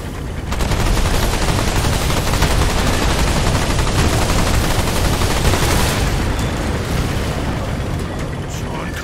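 Loud, continuous gunfire in Remnant 2, shots aimed at crystals, a dense roar of rapid shots and booming impacts that runs almost unbroken for around nine seconds, with voices mixed in.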